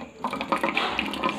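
Hot water poured from a kettle or jug into a plastic bottle for an air-pressure science experiment, a short steady splashing pour that rises in the middle and continues to the end.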